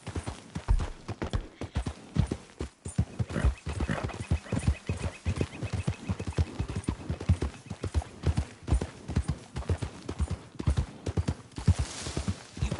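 Horse hooves clip-clop in a quick, steady trotting rhythm close by in the Red Dead Redemption 2 video game, the beats sharp and continuous with a faint background hum.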